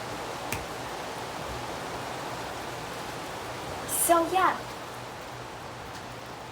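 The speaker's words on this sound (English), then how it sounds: "Oh well, we got a lot of rain." Steady rain falls outside an open window, a soft, even hiss of broadband patter throughout, heard from indoors at moderate distance, while a person speaks briefly near the end.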